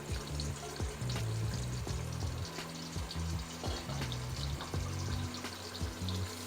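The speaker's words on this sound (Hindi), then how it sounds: "प्याज़ों को गोल्डन ब्राउन करेंगे।" Onions fry in a pan for a beef keema pulao, a steady close sizzle with scattered clicks and stirring scrapes, no talk.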